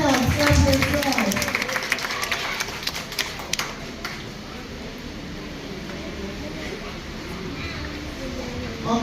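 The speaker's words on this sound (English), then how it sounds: "clap yourselves, clap yourselves" An audience at a school graduation breaks into dense, sustained applause that fills the room, with a voice talking over the clapping near the start.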